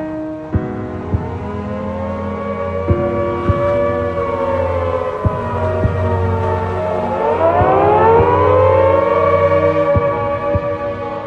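A wartime air raid civil defense siren wails loudly and close, its pitch sliding and swelling in a long continuous rise and fall, with faint sharp knocks scattered beneath it.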